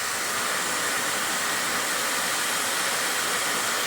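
Negative ion hair dryer blowing on its cool setting, a loud, steady airy whoosh held without change throughout, heard up close with no talking.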